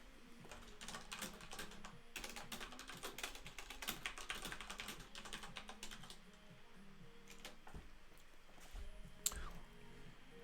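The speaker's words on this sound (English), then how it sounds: "Well, let me type." Rapid, irregular keystrokes clatter on a computer keyboard for about ten seconds, close and moderately loud, with short pauses between bursts and no talking.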